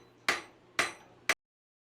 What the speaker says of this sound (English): Each clang of the hammer brought the past to life